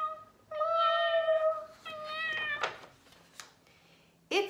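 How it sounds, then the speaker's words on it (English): A cat meows several times up close, drawn-out tonal cries with short gaps, ending in a sharper, louder meow. "A cat. A cat. Meow. Meow."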